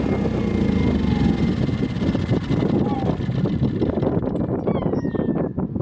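A Ryobi 2300-watt Bluetooth generator runs with a steady, loud engine drone, then sputters and winds down as it is shut off near the end.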